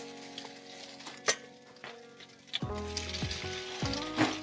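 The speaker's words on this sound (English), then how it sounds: "You see how it's got a nice sizzle going on right off the bat." Salmon bites frying in a pan of butter and olive oil, a soft steady sizzle with sharp crackles and pops, punctuated by clinks of a utensil against the pan, close and fairly quiet with no talk.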